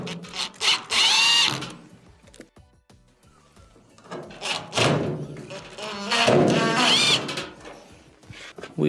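A power driver reinstalls two Phillips screws on a clothes dryer during a blower wheel repair, with two main whirring bursts and several shorter ones close by, mixed with thumps and handling noise.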